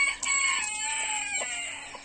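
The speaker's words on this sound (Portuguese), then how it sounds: "Olha o tamanho desse galo." A large rooster in a farm backyard crows loudly and close by in one sustained, wavering call lasting about two seconds, with a few faint clucks behind it.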